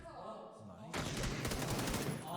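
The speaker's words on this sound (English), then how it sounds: "That stun grenade." A stun grenade and gunfire from an esports match, a dense burst of rapid shots and blasts that swells abruptly and stays loud, with game noise and a commentator's voice mixed underneath.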